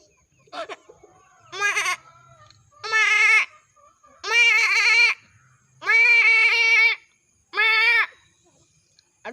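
A person imitates a goat, giving five drawn-out, wavering bleats with short pauses between them, loud and close, with no other sound behind.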